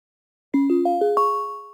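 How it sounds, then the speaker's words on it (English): Completion chime from the Windsurf Cascade AI code editor, a short bright ascending sequence of four or five bell-like tones that ring out and sustain, alone after silence. "We got the chime. That means everything has been updated."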